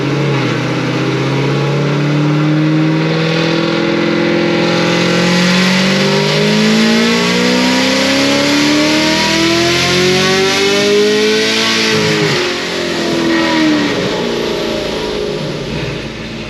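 A Stage 5 Procharged LT1 Camaro engine revs hard on a dyno on pump gas, a loud sustained pull whose pitch climbs steadily for about twelve seconds, then drops briefly and rises again, with supercharger whine throughout and no talking.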